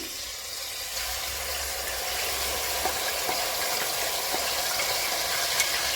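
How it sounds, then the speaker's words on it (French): Steady, dense sizzling of onions added to a hot pan of oil used for frying chicken, continuous and close, with faint clicks and crackles popping through the hiss. "On va continuer en rajoutant les oignons."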